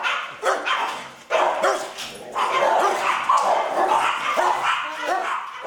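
Dogs at an animal rescue centre bark and yip repeatedly in overlapping bursts, fairly close and loud, with some whimpering and a busy kennel background.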